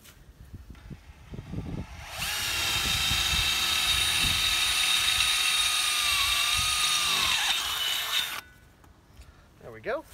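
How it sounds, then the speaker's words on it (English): A drill with a titanium bit punches through 11 gauge steel without a pilot hole: a loud, steady high-pitched whine for about six seconds, close up, its pitch dipping slightly as it bites, with talk before and after. "even with a good titanium bit, even without a pilot hole, it'll punch through this 11 gauge steel without much problem"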